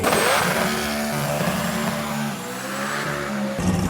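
A drag racing car engine revs loudly and steadily after its burnout, a dense roaring drone that dips briefly and surges again near the end, with no talking.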